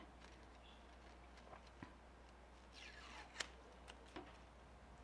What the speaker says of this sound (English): Hold one end and then just bring it through your scissors to curl the ribbon.